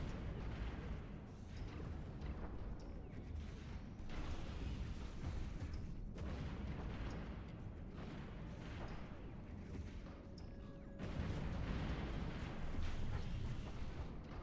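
Space naval battle in the Stellaris video game, with torpedoes and weapons fire rendered as a dense, continuous rumble of booms and blasts, loud and sustained, with surges and brief lulls.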